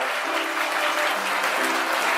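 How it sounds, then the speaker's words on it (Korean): Wedding guests in a hall give loud, sustained applause as the mothers of the bride and groom enter, with steady dense clapping and a faint sustained tone under it. "1층 내빈 여러분 큰 박수로 양가 어머님을 맞이해 주시기 바랍니다"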